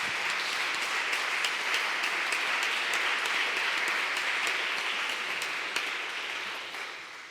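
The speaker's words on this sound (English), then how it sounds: "Give also a big applause of, hands of applause to Inge," Audience applause at an arts festivals summit, a dense, steady wash of many hands clapping that holds loud throughout and tapers off near the end, with no talking over it.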